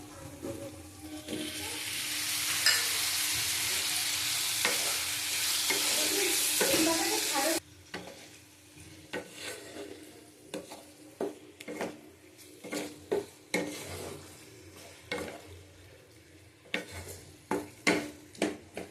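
Prawns dropped into hot oil in a pan burst into a loud, dense sizzle for several seconds, which then gives way to a quieter hiss broken by a run of sharp spatula scrapes and clinks.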